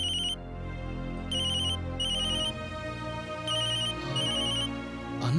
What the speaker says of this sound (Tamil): அண்ணா ஃபோன் பண்றாரு.